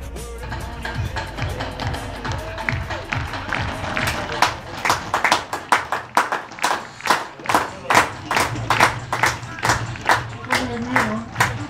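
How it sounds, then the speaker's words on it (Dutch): Applause greets players taking the field at a farewell match, with clapping that starts scattered and grows into strong, rhythmic synchronized claps from a crowd, mixed with some voices in the background. "En geef ze natuurlijk een hartelijk applaus."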